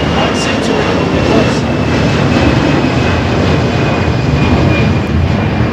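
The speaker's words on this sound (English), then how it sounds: "The sound of CFM." A CFM jet engine on an airliner at Miami International Airport gives a loud, continuous roar with a faint high whine across the whole stretch, while people talk over it.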